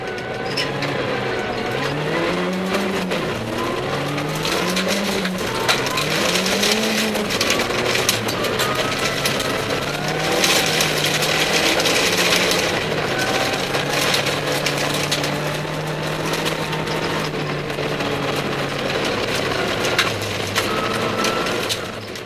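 Eric's Mazda Speed 3 rally car on a night stage of the LSPR 2010 Max Attack 2wd Rally Championship, its engine heard from inside the car, revving up and down through repeated gear changes and then holding a steady drone with road noise throughout.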